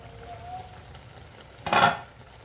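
A tomato and amaranth leaf curry simmers quietly in a pan with a faint low bubbling, then a short burst of sizzling and scraping as it is stirred near the end.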